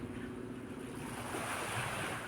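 Sea waves washing against a rocky, stony beach at Punta Fuego in Nasugbu, Batangas, a steady soft surf with wind rushing over the microphone throughout.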